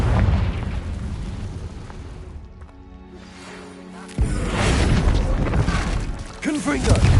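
A Confringo fire spell explodes in Hogwarts Legacy on PS5: a sudden loud blast with crackling debris midway through, following a quieter stretch of game ambience.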